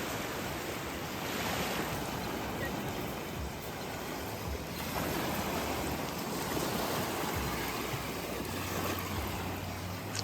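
Ocean waves wash continuously onto Winifred Beach in a steady, full surf roar, with wind buffeting the microphone throughout and no voices.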